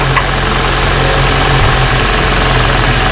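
The engine of a 2004 Nissan Cube drones in a steady, loud, close mechanical rumble with a faint knocking pulse, holding even for the whole stretch with no voices.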